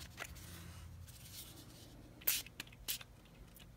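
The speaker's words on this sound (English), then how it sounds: "I kind of spritz that a little bit too much" Mica spray spritzed onto craft foil, two short, soft hissing bursts close by in a quiet room, with faint rustling around them.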